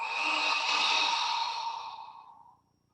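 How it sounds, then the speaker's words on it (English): A single long, deep exhale during a qigong breathing exercise, breathy and steady for about two seconds before tapering off to silence, close and alone with no talk. "we could add the breath, breathing in, and then breathing out"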